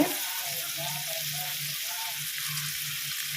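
Onions fry in sesame oil for a mutton intestine gravy, a steady close sizzle with a faint low hum pulsing beneath it and no speech.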